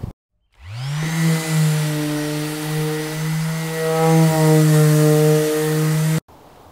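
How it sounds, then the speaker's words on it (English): A power sander grinding dried putty off a metal putty knife: a loud, close, steady motor whine that spins up, holds with shifting pitch for about five seconds, then cuts off abruptly. "if you want to use your putty knife again, you got to sand it off"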